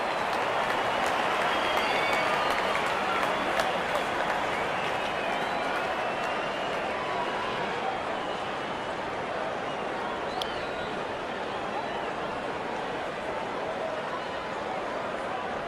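Stadium crowd at an India vs Pakistan T20 match in a cricket video game, a steady roar that stays even throughout with no clear peaks or speech.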